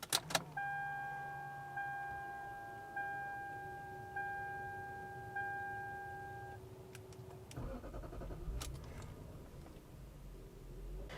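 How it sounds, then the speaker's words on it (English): A Lexus LS 430 Ultra Luxury door chime rings in a slow series of evenly spaced two-tone dings inside the quiet cabin. Clunks and mechanical whirring follow, likely from a door closing and a powered seat or steering column moving. "then we can listen to the old Lexus chime"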